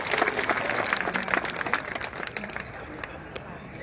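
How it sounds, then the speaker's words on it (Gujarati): Audience applause at a BJP get-together in Viramgam, a dense patter of clapping from a crowd that stays steady and fairly loud, easing slightly toward the end, with some voices mixed in. "હવે આપણે સૌ તાળીઓથી વધાવશું મિત્રો."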